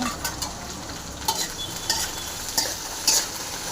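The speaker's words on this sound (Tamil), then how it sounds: "வெண்டைக்காய் எல்லாம் போட்டு க்ளீனாக ஃப்ரை பண்ணிக்கலாம்" Okra (lady's finger) frying in hot oil in a pan: continuous sizzle broken by repeated light spatula stirs and scrapes at an uneven rhythm, close up, no talk.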